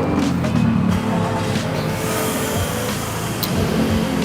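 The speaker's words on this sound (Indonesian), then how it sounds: "Sekarang gue akan nyalain dulu mobilnya." A car engine idles steadily and loudly at close range, a continuous rumbling hum with no clear start-up burst and no talk.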